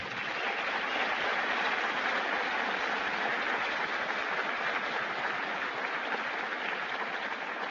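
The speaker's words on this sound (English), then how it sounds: "Join me in giving the first round of applause tonight" Steady applause from a large audience at an awards dinner, a dense, even patter of many hands clapping that lasts about eight seconds with no voices over it.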